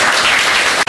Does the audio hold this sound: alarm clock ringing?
no